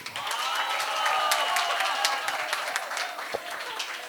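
An audience at a hospital staff antakshari contest claps for the winners, a dense burst of applause with sharp individual claps that holds steady throughout.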